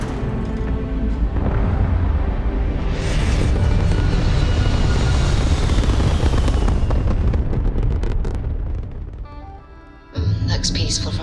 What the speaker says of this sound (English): Ready for takeoff in 3, 2, 1, go!